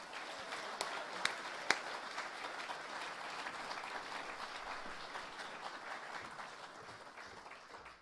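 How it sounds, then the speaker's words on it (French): An audience at a public debate in Thionville claps in a soft, distant, sustained round of applause, with a few sharper claps standing out near the start. "Je vous demande de l'applaudir et de l'écouter."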